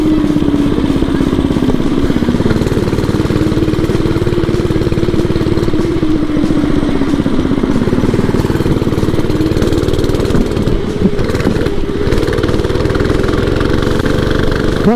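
Oryxearth 105cc minibike engine running loud and close, a steady buzzing small-engine drone with a wavering pitch that rises and falls slightly, continuous for the whole stretch with no speech.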